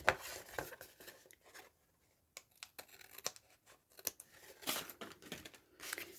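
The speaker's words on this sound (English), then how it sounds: "I'm just going to cut that extra bit off." Paper being cut with scissors during crafting of a pocket booklet envelope, a close, quiet series of short snips and crinkles with brief pauses between them.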